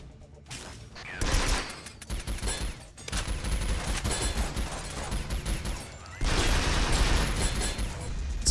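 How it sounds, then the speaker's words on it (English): Rapid automatic gunfire from a weapon in the video game Synthetik: Legion Rising, loud and dense, firing in sustained bursts with mechanical clatter and short pauses between volleys. "This gun I've got is pretty devastating against these extremely early game enemies"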